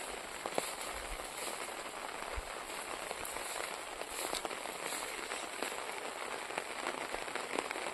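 Light, steady rain falls over paddy fields of ripening rice, a continuous soft patter with scattered sharper drops throughout.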